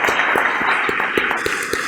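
Applause for the editor at a book presentation on preventive detention: a steady, dense wash of clapping from an audience, fairly close and continuous, with no voices over it.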